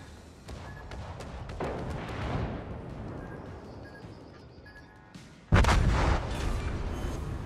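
Naval artillery booms in the World of Warships submarine mode, deep rolling blasts and rumbling impacts layered over game ambience, with one sudden loud barrage near the end.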